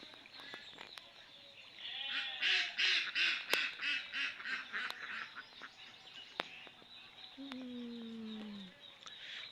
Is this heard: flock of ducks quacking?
yes